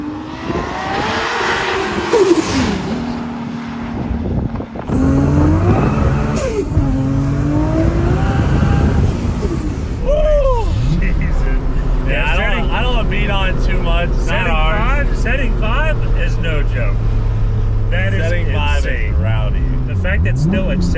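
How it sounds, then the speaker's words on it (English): A rat rod Toyota Supra accelerates hard with its wheels spinning, the engine revving loud and close through rising gear pulls, with people talking over it. "That still accelerates while spinning in the top of the gears is insane."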